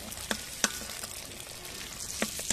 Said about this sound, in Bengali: হালকা আছে লো হিটে আপনারা ডিমগুলো ভেজে নেবেন